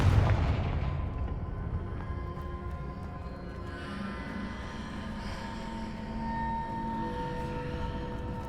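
A Confringo blasting spell goes off in Hogwarts Legacy: a loud, deep boom opens the moment, then a sustained rumbling wash with layered magical tones and low reverberant debris noise that stays fairly steady to the end.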